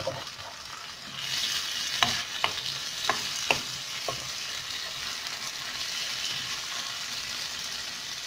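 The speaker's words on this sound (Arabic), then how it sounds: "هنايا دايرة البصلة باش ندير التفاية، غادي نخليها تهبط شوية" Sliced onion and raisins cook in a pan for Moroccan tfaya, a steady soft sizzle broken by a few sharp stirring clicks from a utensil, close and fairly quiet, with no talking.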